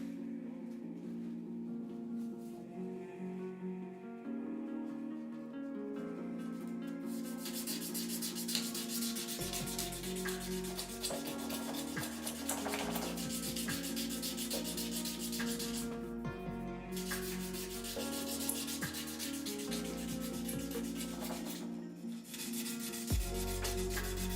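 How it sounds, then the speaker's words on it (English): Guitar wood being hand-sanded with 400-grit sandpaper, a steady close rubbing scrape that continues without pause, with a low hum and tonal background noise underneath. "I was going to go a little bit harder with the grit, but 400 seems to be doing okay."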